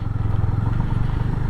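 A KTM motorcycle rides along a hill road with a low, close engine drone and a faint rattle of road clatter. The burst is short, and no one speaks.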